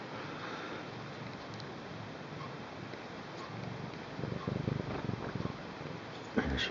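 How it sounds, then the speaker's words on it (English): Cat purring at a beach, a soft continuous low rumble that grows slightly louder and pulsing toward the end, set against wind and surf noise. "she's so happy she's purring."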